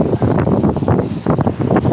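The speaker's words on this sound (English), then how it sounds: "Starting to get windy here, as you could probably tell." Gusty wind buffets the microphone in rough, uneven bursts, loud and close throughout.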